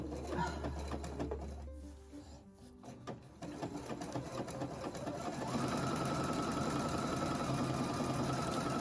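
A sewing machine stitches a small zigzag embroidery outline on a cottage-themed tea towel, its rapid needle chatter running steadily and close throughout, speeding up and getting louder toward the end.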